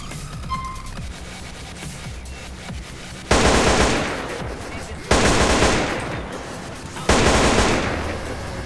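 Modded guns firing in GTA San Andreas, three loud bursts of rapid automatic fire, each breaking in abruptly and fading slowly, with quiet game ambience between them.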